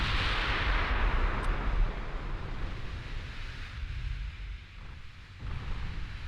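Naval guns fire in the Ultimate Admiral Dreadnoughts warship battle game, a heavy booming rumble opening loudly and rolling on as a low, surf-like roar that swells again near the end, with no talking.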